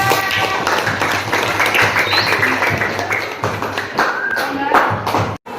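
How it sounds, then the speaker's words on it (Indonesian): A grade 7 science class claps hands together after a lesson on states of matter, giving a loud, busy patter of claps with a few thumps and taps, while voices carry on underneath. "Beri tepuk tangan semuanya."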